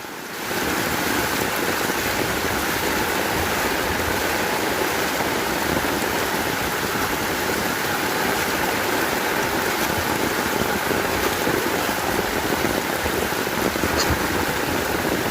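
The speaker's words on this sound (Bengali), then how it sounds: "বৃষ্টি, প্রচুর বৃষ্টি, খালি বৃষ্টি না, প্রচুর বৃষ্টি, বৃষ্টিময় বৃষ্টি, বৃষ্টি 1 মিনিটের জন্য বন্ধ নাই।" Heavy, nonstop rain pours over a flooded roadside area in Senbag, Noakhali, a dense, steady roaring hiss that stays loud and unbroken throughout with no voices.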